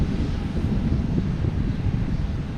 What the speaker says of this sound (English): we have a Delta E170 coming in on runway 22 right